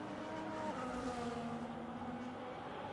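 Race car engines roar continuously in a sim racing game at the Losail circuit in Qatar, with steady tones shifting in pitch as cars accelerate past, loud and dense with no voices.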